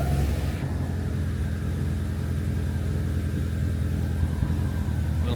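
A Proton Satria GTi's engine runs at a steady, loud idle after sitting unused for a few months, a constant low hum with no revving.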